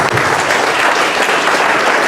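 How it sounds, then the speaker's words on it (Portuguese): Congregation applauding during a church service, dense loud clapping that stays steady and close throughout. "Uma salva de palmas para Jesus."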